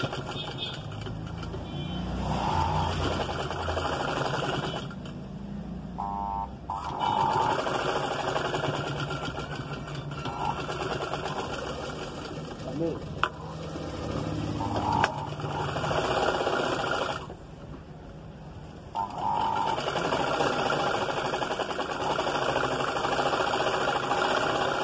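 A sewing machine runs close by in long steady bursts while stitching the neck of a blouse, stopping briefly a few times between runs, with a constant motor whine throughout.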